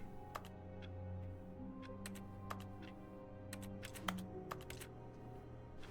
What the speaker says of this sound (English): That sounds like keys.